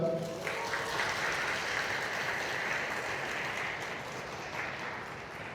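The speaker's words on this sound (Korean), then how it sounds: "여러분 큰 박수 부탁드립니다" Wedding guests applauding as a ceremony begins in a Korean wedding hall, a full, even wash of clapping from a sizable crowd that fades slightly toward the end, with faint voices mixed in.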